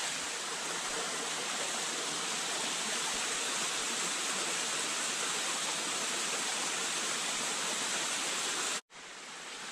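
A waterfall on a jungle creek pours in a dense, steady roaring hiss, loud and close, unbroken for nearly the whole stretch before cutting out abruptly near the end.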